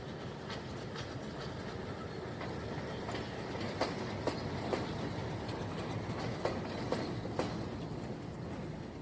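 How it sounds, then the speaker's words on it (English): A Canadian-built Class M4 diesel locomotive train rolls past at a distance in Sri Lanka, its wheels clacking in an uneven rhythm over a low, steady rumble. Quiet, with no one speaking. "you can see this Class M4 locomotive heading back to the yard"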